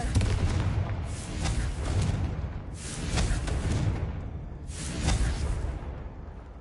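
Blasting spell cast in Hogwarts Mystery, three broad booming bursts with whooshing tails spaced about two seconds apart over a continuous rumbling game background, fairly loud, no talk.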